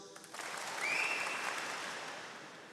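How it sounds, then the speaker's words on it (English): Crowd at a university graduation ceremony clapping in a short, enthusiastic burst that swells and then tapers off. The applause fills a large hall and carries on with no voices over it. "you need to clap for no more than 3 seconds"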